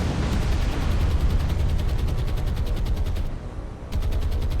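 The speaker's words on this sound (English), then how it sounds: "That was the magazine explosion you just saw there, and that's one dead Kongo." A warship's magazine explodes in the War on the Sea naval game, heard as a sustained, loud roar of rapid blasts and crackling detonations with a short dip near the end before the barrage resumes.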